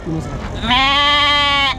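A goat bleats loudly at a large goat and sheep market in Karnataka, one long quavering call of about a second, close to the microphone, with brief talk just before it.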